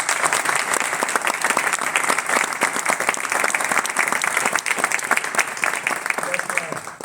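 Sustained audience applause at a conference in Avellaneda, dense steady clapping from a full room that holds loud for about seven seconds before starting to fade at the end.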